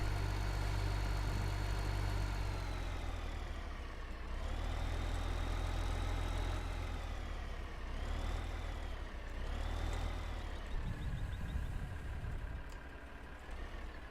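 Tractor engine idling in Farming Simulator 2015 on hard mode, a steady continuous low engine drone with a faint backing beep, holding level throughout without any talk over it.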